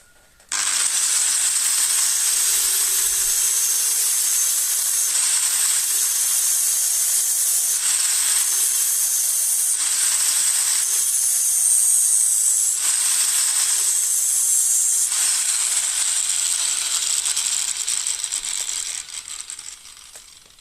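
An angle grinder screams in a loud, continuous high-pitched cut through a fishing float for nearly twenty seconds, briefly easing off a few times before winding down.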